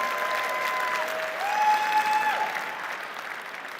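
Audience at the Slush 2022 startup event claps, steady sustained applause from a large crowd, with a brief tonal whistle-like sound rising over it before the applause fades slightly.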